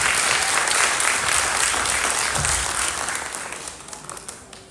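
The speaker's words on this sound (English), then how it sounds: "give your kids another round of applause, y'all" Audience applause for young dancers at a runway dance production, a dense wash of many hands clapping loudly at first and then gradually thinning and fading toward the end.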